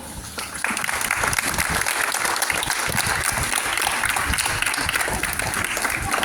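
Audience at a school play staged by eighth-grade students breaks into loud, sustained applause, dense clapping from many hands continuing steadily without pause.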